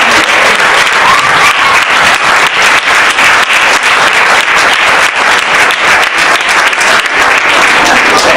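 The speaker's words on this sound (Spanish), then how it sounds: "Yo creo que los actores se merecen un fuerte aplauso" Loud, sustained applause from a theater audience for the actors of a school circus show, dense clapping filling the whole stretch without a break.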